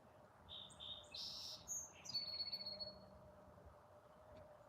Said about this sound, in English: Hear the robins.